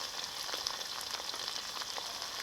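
Onion and ground spice paste sizzle steadily in a hot pan while duck meat is being prepared, a soft, even crackle with faint stirring scrapes and no talk.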